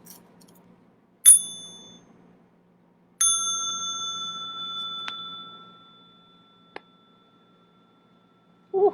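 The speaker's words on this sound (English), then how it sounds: "I'm going to invite the bell again for stretching and massage." A mindfulness bell is struck twice: a bright, sharp ring that fades quickly, then a second fuller strike whose clear tone rings on for several seconds in a quiet room, followed by a soft tap.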